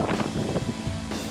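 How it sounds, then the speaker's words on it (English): Strong mountain wind buffets the microphone during a steep winter climb near Aspen, a loud steady roar with gusty surges throughout. "Wind's like no tomorrow."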